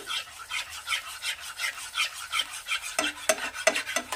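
Yogurt stirred by hand into a Bengali pabda fish curry in a pan, a steady rhythmic scraping and swishing about twice a second, fairly soft and close, with a few sharper clinks of the spoon near the end.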